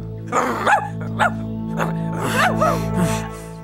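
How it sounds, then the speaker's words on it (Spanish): A dog barks in the Spanish-language children's TV show LazyTown, giving several short, sharp barks and yips spread unevenly over a few seconds, close and fairly loud over a steady background hum. "Hará que el perro te ataque."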